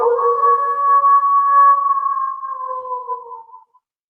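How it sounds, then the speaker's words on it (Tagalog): A dog lets out one long, clear howl that holds a steady pitch, then slowly fades and trails off near the end, with nothing else heard around it. "Oh, may aso."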